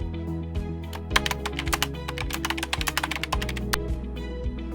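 Typing on a computer keyboard to enter a product name, a run of crisp close key clicks that is loud and quick, with uneven spacing over a steady low background tone.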